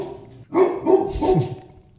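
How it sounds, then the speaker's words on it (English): A dog barks close by, giving three quick loud barks in a row with a short whine between them. "We're trying to record over here. No big deal. Just keep barking."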